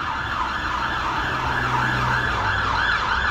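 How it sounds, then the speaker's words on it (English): A fire engine siren wails steadily close by, its rising and falling tone cycling over a low rumble of road traffic. "No, fire engine."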